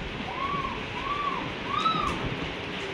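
A child imitates a peacock call, giving three rising, wailing whistled cries one after another over a steady hiss of background noise.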